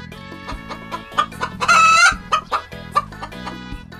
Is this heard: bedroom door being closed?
no